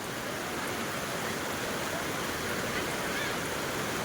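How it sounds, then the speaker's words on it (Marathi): Heavy rain pours over a clothes market in Taloja, a dense and steady hiss of downpour that runs unbroken and fairly loud for the whole stretch, with no clear voices. "कपड्यांचं मार्केट फुल ऑन पाऊस वाला पाऊस पडतो"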